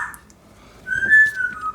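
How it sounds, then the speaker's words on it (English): Loud, steady whistling from a man in a nearby room, a sustained tone that rises in strength midway and holds for over a second, heard alone over a faint background with no talking. "he's getting very loud with the whistling"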